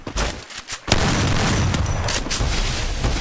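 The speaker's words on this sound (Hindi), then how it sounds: "भाई ये बंदा नॉन स्टॉप ग्रेनेड फेंक रहा है" Loud, blasting grenade explosions in the Garena Free Fire video game: a brief thump and pop, then a sustained roaring, crackling wash of blast noise that fills the rest of the moment, no voices.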